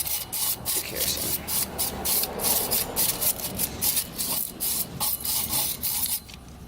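Rubbing and scrubbing on a Yamaha FJ-09 rear sprocket with kerosene, a steady rasping brush-like texture with rhythmic strokes, close and fairly loud, with a few brief pauses.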